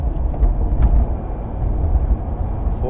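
A 2009 Mercedes E320 Bluetec diesel, suffering a boost problem, revs steadily in third gear, its low engine drone continuous and fairly loud throughout without talking.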